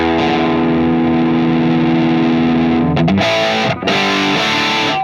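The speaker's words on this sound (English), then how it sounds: "that's a great overdrive distortion sound right there" Loud overdriven electric guitar through a Mesa Boogie Mark VII amp with the gain turned up rings out with thick sustained distortion, chords held then struck again near the end, no talking.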